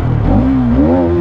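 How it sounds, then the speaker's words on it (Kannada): A 2024 Hero Karizma XMR 210 motorcycle's exhaust revving up close, its loud engine tone climbing in pitch, settling briefly, then rising again. "ಎಕ್ಸಾಸ್ಟ್ನ ಸೌಂಡು ಈ ಥರ ಕೇಳಿಸುತ್ತೆ"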